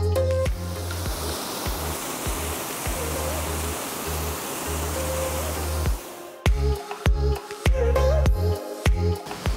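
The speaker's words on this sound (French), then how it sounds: "je vais vraiment m'approcher de la cascade" Broad, steady roar of a waterfall cascading into a pool, heard from close by while standing in the water, dense and continuous, later broken by a few knocks and handling noises.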